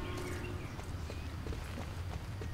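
Pony hooves clip-clop steadily in Star Stable Online, a light, even rhythm of hoofbeats at moderate distance over continuous background game ambience.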